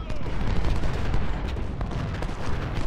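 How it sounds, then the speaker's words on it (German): Cannon and musket fire thunders in a Civil War battle strategy game, dense overlapping booms and cracks rolling continuously, with someone talking over the din. "Und alle Kanonen, Feuer auf die große Einheit da."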